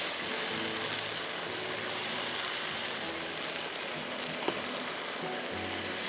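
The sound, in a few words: garlic, tomato paste and spices frying in oil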